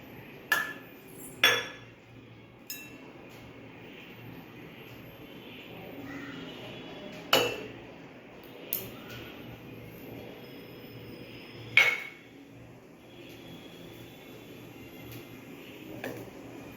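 A utensil clinks sharply against a mug while mug cake ingredients are mixed, a handful of scattered bright taps over quiet kitchen background.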